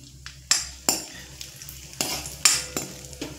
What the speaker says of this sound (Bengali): কিশমিশ আর কয়েকটা কাজু আমি এখান থেকে ভেজে নেব